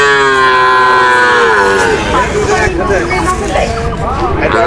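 A cow moos loudly and close by at a crowded cattle market in Bogura, one long drawn-out low call, followed by people talking and market chatter.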